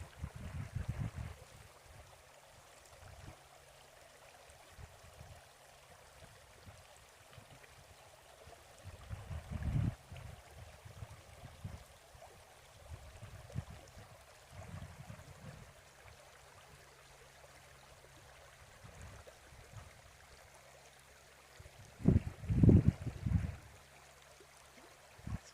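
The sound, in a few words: creek water flowing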